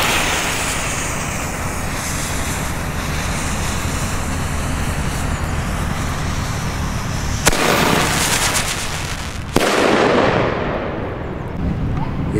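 Fireworks and firecrackers go off outdoors, including a Funke Thundercracker, as a dense, continuous roar of crackling blasts with two sharp louder bangs near the end.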